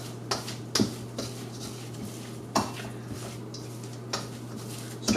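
Burger mixture with chili powder and tofu gets mashed and stirred in a bowl, giving scattered utensil clinks and soft scraping taps over a low steady hum, with no talking.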